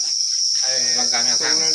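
A dense, shrill chorus of many crickets fills a cricket farm with a continuous high trill, loud and steady, with softer rumbling activity underneath.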